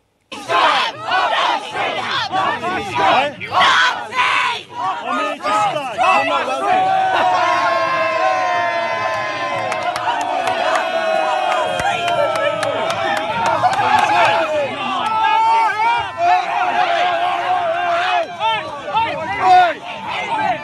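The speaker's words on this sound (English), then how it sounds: "This is where a Trump supporter is being abused and attacked by the crowd around him." Protest crowd at an anti-Trump demonstration in Parliament Square, London, shouting and yelling at a Trump supporter, with loud overlapping raised voices and chants rising and falling in a chaotic, sustained outdoor clamor.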